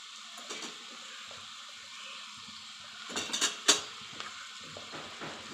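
Masala frying in a pan with turmeric and red chili added, a faint steady sizzle broken by a few clinks and scrapes of a spoon stirring against the pan, close by with no voices.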